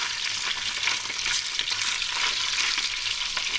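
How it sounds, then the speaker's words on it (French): Red mullet heads and bones fry in plenty of oil over high heat, a dense, bright crackling sizzle that runs on steadily with faint stirring and no voices. "Pendant que mes têtes de poisson et mes arêtes de poisson rissolent"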